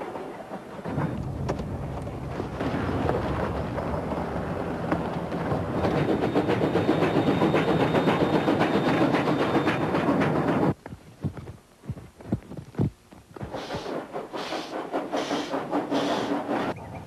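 A train runs on rails through Australian countryside of scrub, pasture and pineapple plantations, a loud steady rumble for about ten seconds, then quieter broken clatter and bursts as it continues.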